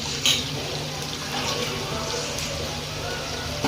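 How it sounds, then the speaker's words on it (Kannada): Leafy greens are washed under a running kitchen tap, a continuous loud splash and stream of water with brief clatters, close by and without talk. "ಈಗ ನೋಡಿ ಸೊಪ್ಪು ಈ ಥರ ತೊಳ್ಕೊಂಡು ಹಾಕೊಳ್ಳೋಣ"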